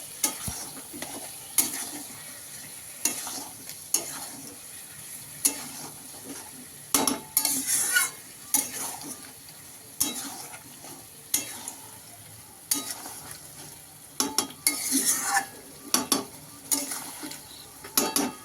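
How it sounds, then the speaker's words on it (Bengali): Meat fries and is stirred in a pan while being browned, with a steady low sizzle under repeated scraping strokes and utensil clinks against the pan. "এবার মাংসটাকে ভালো করে কষবো"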